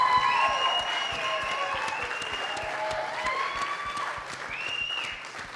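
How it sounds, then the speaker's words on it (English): Sustained audience applause at a cabaret benefit show fills the room, dense and steady with a few cheers and whoops rising above the clapping. "Round of applause, please."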